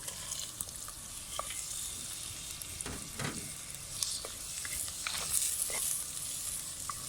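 Onions and meat sauté in a pan for a Turkish clay-pot bean stew, a steady close sizzle with scattered crackles and occasional scraping stirs, no voices.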